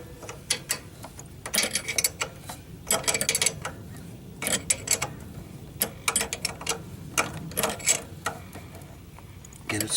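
A ratchet snugs the carburetor nuts on a VW single-port carburetor, clicking in short bursts of quick pawl ticks with pauses between strokes, close up and fairly loud.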